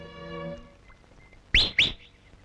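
A person gives two quick, loud, sharp whistle blasts close by in the early morning. They follow a softer stretch of sustained tones and then stop abruptly.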